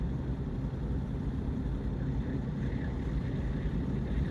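Low rumbling traffic noise at night on a road near Gorumara National Park, Lataguri, a steady broadband roar of passing vehicles with wind-like hiss and no clear individual pass-bys.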